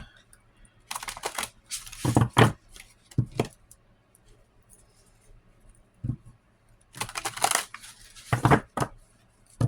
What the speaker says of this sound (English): This one's bigger, so I have to make sure I shuffle it differently.